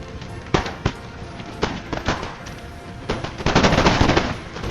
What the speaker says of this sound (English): Okay, these guys are firing up on the wall.